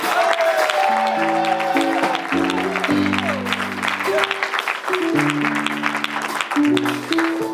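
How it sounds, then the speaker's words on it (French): A church congregation claps and cheers for a preacher, with steady crowd applause under sustained keyboard chords and a voice speaking over it. "Est-ce que vous pouvez acclamer pour l'homme de Dieu?"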